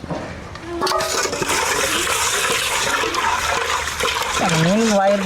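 Fresh fish is rinsed under running water, a loud continuous rush and splash of water with a few clinks, and a brief voice rises near the end.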